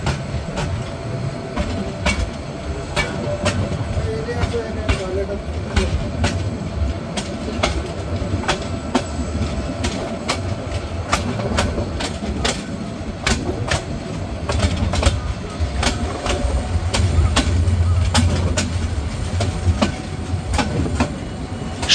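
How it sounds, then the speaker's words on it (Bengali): Kalni Express train pulling out of Sylhet railway station on a large curve, a rolling rumble with regular clickety-clack wheel beats passing close by, loud and continuous without speech. "সুবিশাল কার্ভ নিয়ে ট্রেনটি ছেড়ে যাচ্ছে সিলেট রেলওয়ে স্টেশন"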